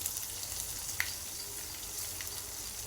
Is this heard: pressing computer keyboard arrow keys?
no